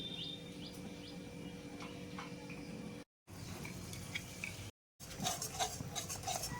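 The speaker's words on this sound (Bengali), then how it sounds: "এটা একটু কষিয়ে নিচ্ছি" Grated potol tossed with spice paste in hot oil in a pan, a steady soft sizzle with scattered light clinks and scrapes of a spatula, close and continuous, no talking.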